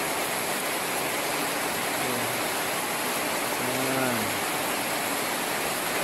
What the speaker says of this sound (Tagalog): Ang grabing lakas ng ulan.